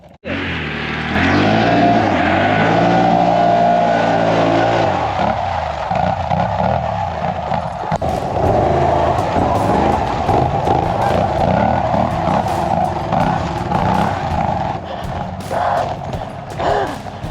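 An off-road vehicle churns through thick Alaskan mud, its engine rising from a low idle into a loud, sustained revving roar with shifting pitch, accompanied by splattering and knocking as the tires spin.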